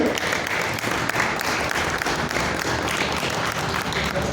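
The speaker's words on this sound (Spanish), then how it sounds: "También un aplauso por favor para él." An audience at a Spanish-language book presentation applauds the moderator, a dense, even wash of clapping from many hands that fills the room for several seconds without a break.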